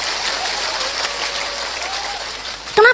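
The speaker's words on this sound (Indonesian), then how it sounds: "Tepuk tangan disit kok." Audience applause at a religious gathering, a broad wash of steady clapping from a crowd, moderately loud, with a voice breaking in just at the end.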